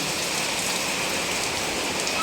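Steady rain pours down on a village, a dense continuous hiss of drops hitting surfaces, even and unbroken throughout.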